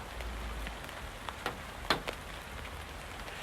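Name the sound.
rain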